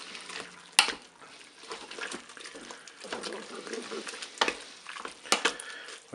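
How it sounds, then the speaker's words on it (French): Spaghetti sauce with mustard and tomato paste being stirred in a Cookeo pot: wet sloshing and soft scraping with a few sharp spoon clinks against the pot, close and moderately loud, no talk. "Je mélange."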